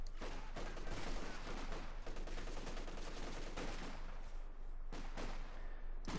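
Rapid machine gun bursts in Company of Heroes 2 make dense crackling fire from a battle during an OKW versus UKF match. The bursts run quietly and continuously, with a few sharper shots over a low rumble.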